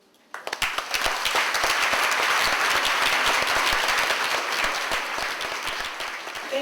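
Sustained applause from an audience at a community reading kickoff event, starting suddenly and holding steady as a dense wash of many hands clapping, easing slightly toward the end.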